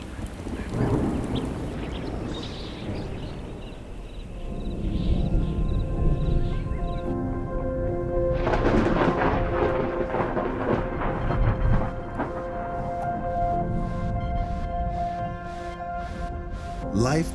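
Thunderstorm and rain arriving over the Serengeti plains, with a broad rushing wash of rain and low rumbling thunder that builds and stays loud and continuous throughout.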